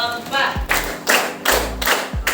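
A class of students claps hands together in a concentration rhythm game, several loud sharp bursts of group clapping spaced roughly half a second apart.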